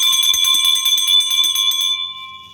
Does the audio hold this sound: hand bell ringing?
yes